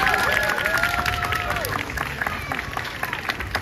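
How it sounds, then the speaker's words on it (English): Applause from a market crowd for a group of taiko drummers, steady clapping with cheering and crowd chatter mixed in throughout. "let's give our drummers one more round of applause"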